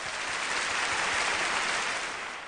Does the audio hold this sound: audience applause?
yes